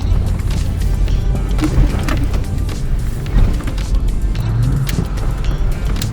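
A Nissan Skyline R34 with an automatic transmission drives off from a cold start in D, its engine rumbling steadily and close, with a few abrupt jolts as the gearbox shifts hard.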